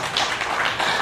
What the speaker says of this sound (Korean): 그래서 여기서 박수 한 번 더 주시고요.